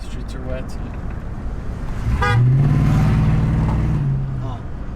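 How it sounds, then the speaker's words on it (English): A car horn sounds a single sustained honk from nearby traffic on wet streets during a pickup truck test drive, rising over road noise while people talk in the cab. "They're honking at his friend."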